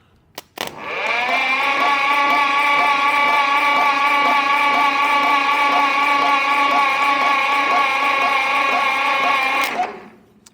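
A Case LA tractor engine cranks over on a jumper box, its starter whining in one steady, loud, sustained run of about nine seconds with rhythmic compression pulses, then stopping abruptly.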